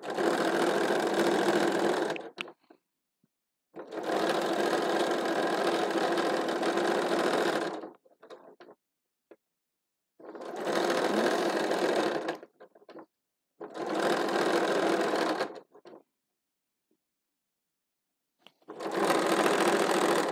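A sewing machine stitches winter hats in five bursts of a few seconds each, separated by short pauses, with a steady, close mechanical whir and no talking.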